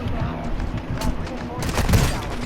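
Dense gunfire in Call of Duty on Ashika Island during a quads match, a near-constant stream of bullet shots and bursts lasting throughout, with voices talking over it.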